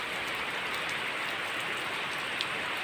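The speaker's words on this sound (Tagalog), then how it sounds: "ngayon umulan na" Steady rain falls on a flooded rice paddy, a dense, even hiss of drops on water holding constant for the whole stretch with no voices.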